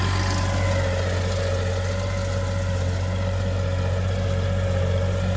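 A small tractor engine drones steadily at a constant pitch in a muddy field, a continuous mechanical hum with no voices over it.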